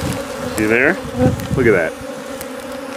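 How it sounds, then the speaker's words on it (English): Tens of thousands of bees in a small hive box holding honey, a dense close buzzing drone throughout, while someone talks over it. "There's so many bees in this box."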